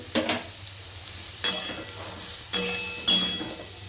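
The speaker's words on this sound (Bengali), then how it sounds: "এঁচোড়টাও আমি ভেজে নিচ্ছি একই সাথে সমস্তটাই" Oil sizzles steadily in a pan as young jackfruit fries, while a utensil stirs and scrapes in several sharp bursts, close by with no talking.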